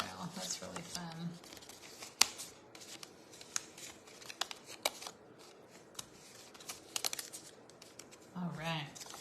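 Foil crinkles and rustles in short irregular bursts during paper crafting, quiet and close, with scattered crisp snaps and a few brief spoken words.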